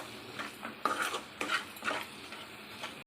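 Masala being stirred and fried in a pan for restaurant-style dal tadka, with several distinct scraping clinks of a metal spoon against the pan standing out over a faint steady background, close by with no talk.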